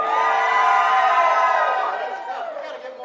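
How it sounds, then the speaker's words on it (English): A block party crowd screams and cheers together in a loud burst of mixed voices, shrill whoops over a roar that swells, then gradually fades over a few seconds. "Scream, clap, whatever you want to do."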